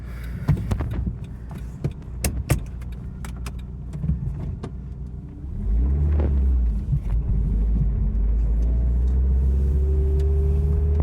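A 1992 Isuzu Gemini Irmscher R Turbo engine hums and rumbles steadily from inside the cabin while driving, with a few clicks and rattles early on before the engine note deepens and settles into a constant drone.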